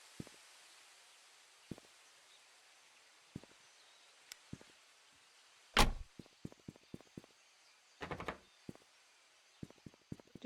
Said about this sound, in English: To politely close that man's car door